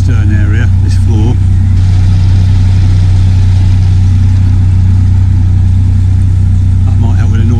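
A narrowboat's diesel engine chugs loudly and steadily at a low, constant throb, heard from the stern, with someone talking briefly over it at the start and end.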